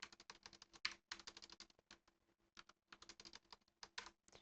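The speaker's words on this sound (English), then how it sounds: "give me a sec to type it into the spreadsheet" Quiet, close typing on a computer keyboard while entering figures into a spreadsheet, with irregular bursts of rapid keystrokes separated by short pauses.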